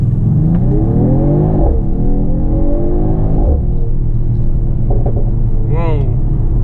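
A 2020 Mercedes-AMG GT 53 4-Door Coupe climbs a small forest road uphill, its engine rumbling and rising in pitch as it accelerates and shifts, steady and close throughout, with a voice talking over it.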